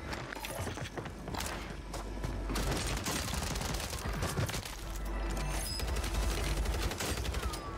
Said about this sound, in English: I don't like it when they shoot back.